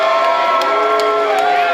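A wrestling arena crowd roars and jeers at Lena Kross, a loud, steady wall of massed voices with a few sharp shouts rising out of it.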